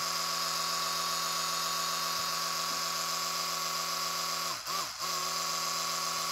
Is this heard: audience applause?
no